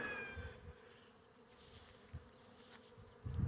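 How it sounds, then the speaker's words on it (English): Honeybees buzzing around a group of outdoor beehives, a steady low insect drone with a few brief louder passes as individual bees fly close, quiet overall. "as we approach these hives, so we have lots and lots of activity coming from them"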